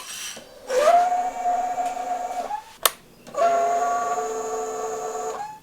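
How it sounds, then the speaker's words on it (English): A failing ATV fuel pump drones with a high, whining tone, stops briefly after a sharp click, then starts again with the same strained whine. "If your fuel pump sounds like this"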